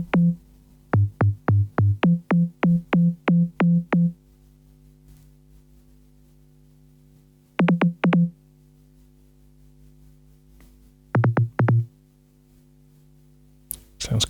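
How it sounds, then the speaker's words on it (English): Laser-like synthesizer zaps with the filter resonance turned high come as short, bright pitched blips: a quick run of about a dozen, then two smaller clusters separated by silence. "so we just whack the resonance up,"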